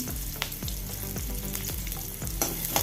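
Chopped onion frying in a tablespoon of coconut oil, with a steady close sizzle broken by regular spatula scrapes about every half second.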